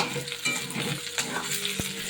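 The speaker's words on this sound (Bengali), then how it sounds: "দেখো আলুটা ভাজা হয়ে গেছে" Potatoes frying in a pan give off a steady, close sizzle for about two seconds, with soft stirring scrapes and one sharp knock partway through.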